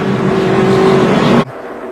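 Race cars roar loudly together as a pack stacks up entering a corner, a dense sustained engine drone with a steady pitch that cuts off abruptly near the end, leaving quieter ambient noise.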